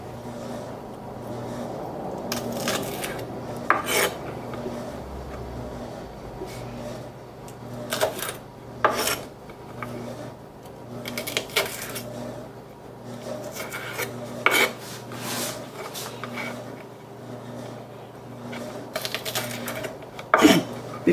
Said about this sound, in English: So let me get the vegetables cut up and we'll be on our way.